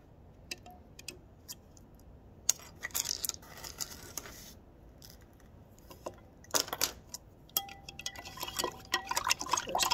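Salt stirred into water in a glass for an egg experiment, light clinking taps of a spoon on glass with gentle swirling liquid, close and fairly quiet.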